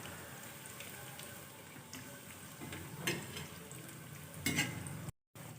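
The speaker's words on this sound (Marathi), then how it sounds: "गोल्डन ब्राऊन कलर येईपर्यंत आपण याला तळून घेणार आहोत।" Dal vada frying in hot oil in a pan, a steady quiet sizzle and bubbling that runs through the whole stretch, with a couple of brief clinks partway through.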